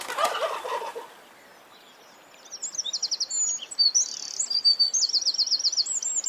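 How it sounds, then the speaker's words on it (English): A turkey gobbles in a burst of rapid rattling calls, then, after a short quiet gap, several more bubbling gobbles follow in quick succession, clear and fairly close. "Turkeys make a sound called a gobble gobble."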